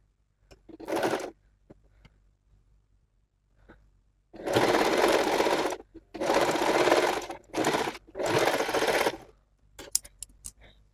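A sewing machine stitches fabric for a co-ord set, running in several loud rapid bursts of whirring needle action separated by quiet pauses, with small handling clicks between.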